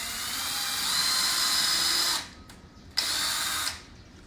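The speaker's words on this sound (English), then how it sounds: "It's 12 drill holes that they would have to be making" A power drill runs steadily for about two seconds while boring holes for a DIY corner shelf, then stops and whirs briefly again, loud and close with no talking.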